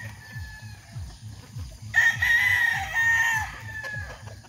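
A gamefowl rooster on a game farm crows loudly once, a long strained call in the middle, while rhythmic low thumping and other birds sound faintly around it.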